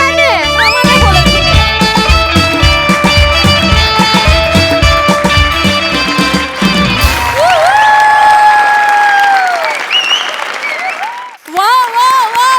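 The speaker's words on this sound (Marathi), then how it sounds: "जोरदार टाळ्या" Loud audience applause and cheering at a Marathi comedy show, mixed with music and blaring tones, sustained clapping that carries through before dropping away near the end.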